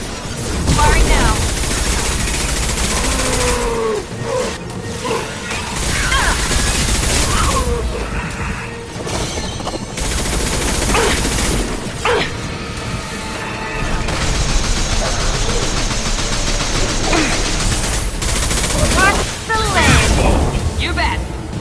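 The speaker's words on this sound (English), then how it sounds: "Firing now." Gunfire in the Mass Effect 2 Legendary Edition game on PlayStation 4: loud, dense bursts of shots and impacts, mixed with clanking mechanisms and intermittent in-game voices.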